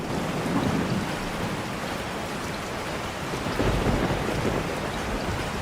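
Stormy weather in a dark horror video game, with steady heavy rain hissing throughout and low rumbling thunder swelling briefly toward the end, constant and enveloping with no voices.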